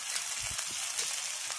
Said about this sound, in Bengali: এবার কিছু গুঁড়ো মশলা দিয়ে দিচ্ছি লঙ্কার গুঁড়ো, হলুদ গুঁড়ো